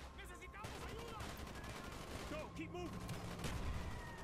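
Gunfire in the video game Call of Duty Black Ops: a quiet, continuous crackle of distant small-arms fire with occasional sharper shots, while someone talks over it.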